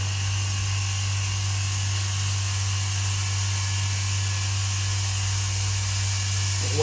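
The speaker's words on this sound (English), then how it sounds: "Sorry about the noise on the compressor." An old air compressor runs steadily in a car bodywork setting, a loud, constant mechanical hum with a strong low drone and hissing air, unbroken for the whole stretch with no talk.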